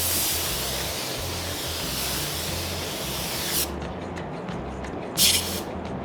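A paint spray gun laying down a fresh base coat on a crashed Ram truck's door and fender in a body shop, a loud continuous hiss that cuts off, then a short second burst.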